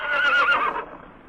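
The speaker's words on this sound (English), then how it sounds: "First, the horses from the royal stables are paraded before the king." Horses from royal stables neigh in a sound and light show at the Red Fort in Delhi, a single loud, close whinny lasting about a second and then fading, with no talk over it.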